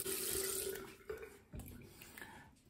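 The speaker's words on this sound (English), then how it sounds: "Just gonna rinse my face." Running tap water splashes close by as a face is rinsed after a shave, a hissing flow that breaks into intermittent splashes and gurgles toward the end.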